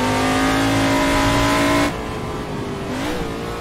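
Loud, sustained engine drone of a heavy prototype race car in the Assetto Corsa racing game, holding high revs before dropping to a lower steady note that climbs slightly again.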